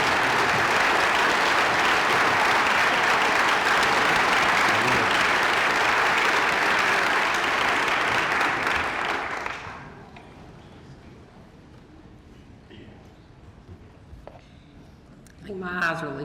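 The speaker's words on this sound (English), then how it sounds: "I think that deserves a standing ovation." A loud, dense standing ovation fills a hall at a high school senior awards night, broad steady clapping for about ten seconds before cutting off to a quieter room with scattered faint sounds.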